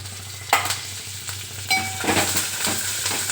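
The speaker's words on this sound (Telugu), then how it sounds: "ఇప్పుడు ఇందులో కరివేపాకు, ఎండుమిరపకాయలు, పచ్చిమిరపకాయలు వేసి వేయించుకుంటాం" Oil sizzles and crackles in a pan, flaring in sudden spurts as curry leaves, dried red chillies and green chillies go in, over a low steady hum.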